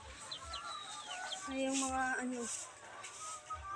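Chickens clucking inside a poultry house with a storm-damaged roof on a windy day, intermittent clucks and calls at moderate distance while a person talks over them.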